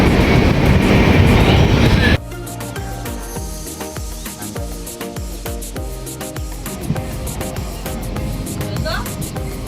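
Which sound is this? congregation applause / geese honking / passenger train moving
passenger train moving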